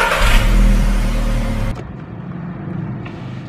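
A car engine revs loudly and pulls away in heavy city traffic that has just cleared, the roar strong at first, then cutting off abruptly and leaving quieter road rumble.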